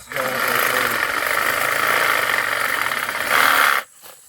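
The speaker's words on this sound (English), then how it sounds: "Make my undercut. And since I'm using a power tool," A power tool buzzes and rattles steadily as it makes an undercut through a Paulownia tree branch during pruning, then stops abruptly near the end.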